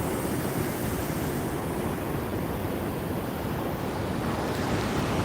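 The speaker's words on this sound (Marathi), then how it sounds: "ही लाटा एकदम दणाकतात" Sea waves on the Konkan coast breaking below a cliff, heard from above as a continuous roaring wash of surf mixed with wind buffeting the microphone, steady and dense without any distinct single crash.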